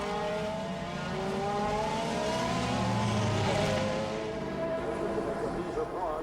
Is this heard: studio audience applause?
no